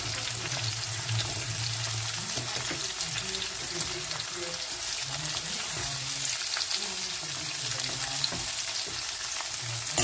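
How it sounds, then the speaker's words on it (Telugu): Chopped onions and green chillies fry in a pan for a mutton curry, giving a continuous close sizzle with occasional stirring scrapes and no talk. "ఉల్లిపాయలు, పచ్చిమిరపకాయలు బాగా వేయించుకోండి మంచిగా."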